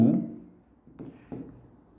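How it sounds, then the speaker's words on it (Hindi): Handwriting on a board or paper during a class, a couple of brief scratchy strokes after a fading voice, quiet and close. "इसको आप ऐसे लिख सकते हो"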